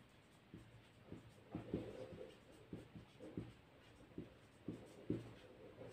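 Pen scratching on paper while a math solution is written out, soft irregular strokes and taps in a quiet room, close and faint, without speech.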